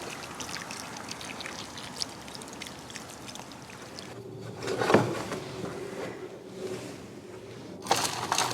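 Water pours and trickles steadily onto soil or into a pot, a continuous splashing flow with a couple of brief knocks partway through.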